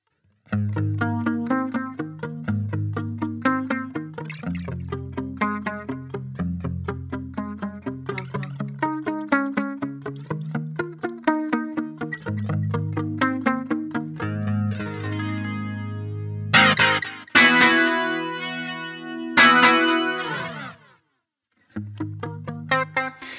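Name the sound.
guitar with chorus and delay effect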